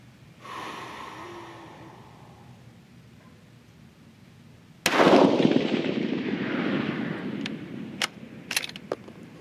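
A single loud rifle shot fired with a 42.5-grain Varget load behind a 175-grain Sierra MatchKing bullet cracks sharply and rolls into a long echoing decay, followed by a few faint clicks.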